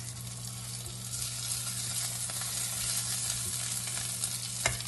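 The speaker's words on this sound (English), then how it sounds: "As you can see, the burgers are cooking rather nicely" Vegan burgers fry in a pan, giving a steady, even sizzle close by with no talk over it.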